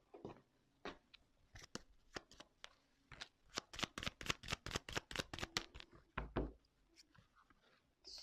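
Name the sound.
tarot cards being shuffled and drawn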